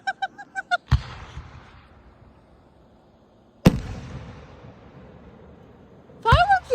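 Fireworks at a fairground show go off in two loud booming bursts with rumbling tails, preceded by a quick run of sharp pops, with a voice and honking-like cries overlapping near the end.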